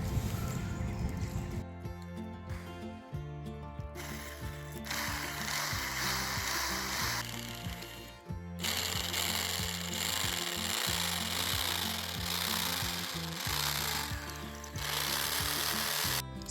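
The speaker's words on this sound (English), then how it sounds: "This is a hammer drill." A hammer drill bores into stone while an anchor is set in a front yard garden, giving a loud, rapid mechanical hammering that runs in long bursts with brief pauses between them.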